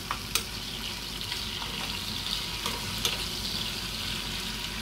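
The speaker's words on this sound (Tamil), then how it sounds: "அதில் கோழி பொரிந்து கொண்டிருக்கிறது." Chicken frying in oil for Sri Lankan chicken devil gives a constant, close bubbling sizzle, with a few brief louder crackles punctuating the even hiss.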